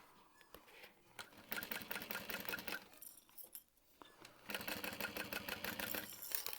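A sewing machine stitches a handbag along a curved seam in two sustained runs of rapid, steady needle clatter, separated by a brief pause, heard close and moderately loud.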